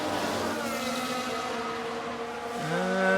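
A Formula 1 race car in the F1 Manager 2022 game runs with a steady, high engine whine that drops in pitch near the end as it slows under braking.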